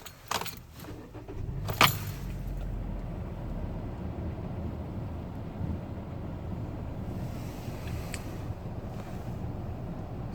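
A 2012 Hyundai Elantra is started with a jingle of keys and a brief crank, then settles into a quiet, steady idle heard close up with light wind noise.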